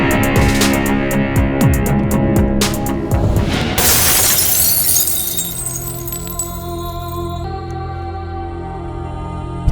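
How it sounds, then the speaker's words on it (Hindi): Glass shatters loudly in a dramatic film scene, a dense burst of breaking shards and clinking fragments that rings out over several seconds before settling into a quieter tail, with no speech. "कांच टूटने की आवाज सुन के"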